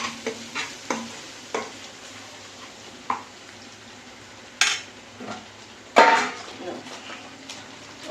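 Intermittent clinks and scrapes of stirring in a pan over a faint sizzle, with a few sharper clatters spaced across the clip.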